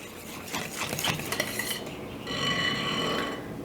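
A spatula scrapes around a mixing bowl of gluten-free chocolate muddies batter with quick, rubbing strokes and light clinks, followed by a steadier, smoother mixing sound.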